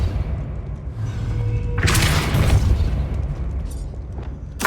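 A Depulso force spell cast in the Hogwarts Legacy video game lands as one loud, broad booming burst partway through, rising over a steady low rumble of game ambience and then fading back down.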